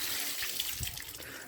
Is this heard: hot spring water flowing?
yes